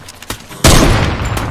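Gunfire in the Fortnite video game: a loud, close burst of shots erupts after softer distant pops, sustained and dense to the end.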